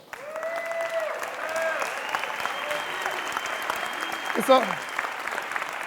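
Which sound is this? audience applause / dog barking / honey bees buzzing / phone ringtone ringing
audience applause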